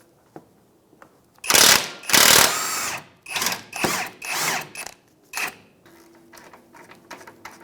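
A ratchet with an extension and swivel works a 17 mm bolt on the lower control arm of a Mazda CX-9, a series of loud rapid clicking bursts of varying length, followed by quieter, fainter clicks.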